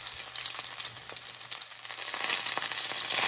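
Browned pork chops fry loudly in a pan, a dense, bright crackling sizzle that carries on steadily without pause, with no voices over it.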